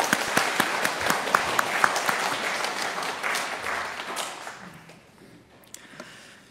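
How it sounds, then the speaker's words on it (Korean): A church congregation claps for its choir during a Sunday service: a brisk burst of sharp, close handclaps with distinct individual slaps, gradually thinning and fading out toward the end. "이 시간에 우리 격려의 박수 한번 드리겠습니다"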